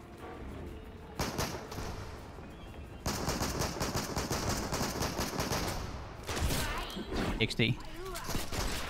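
Rapid bursts of gunfire in the Fortnite video game, with repeated shots and loud volleys spread through the clip, occurring under ongoing gamer commentary.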